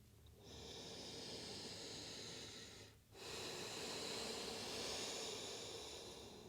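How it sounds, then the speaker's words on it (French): Deep, slow breathing during a gentle full-body yoga stretching flow, heard close as long breathy inhales and exhales with a brief pause near the middle, with no talking. "Prends de grandes respirations profondes."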